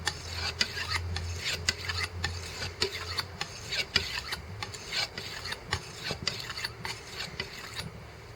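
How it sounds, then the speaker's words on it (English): A cheap butcher's bush knife being sharpened on a hundred-year-old sharpening stone, steady rhythmic rasping strokes repeated back and forth at close range, with no talk. "I'm just going to start with sharpening and we'll just see how sharp we can get it"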